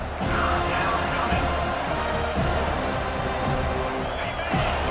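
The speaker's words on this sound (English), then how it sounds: "Decibels rising as the crowd gets behind this defense on third down" A college football stadium crowd at Florida State versus Wake Forest roars steadily as the defense faces third down, a dense, continuous wall of cheering with scattered louder bursts.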